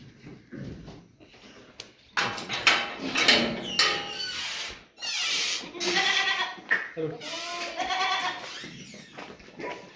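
Goats on a goat farm in Beed, including males, females and kids of four to five months, bleat between and under close conversational voices, with scattered clatter and shuffling.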